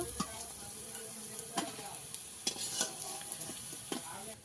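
Bora fritters sizzling in hot oil in a pan, cooked the village way, with a steady fry hiss under intermittent scraping and clinks as they are stirred and lifted out; no voices.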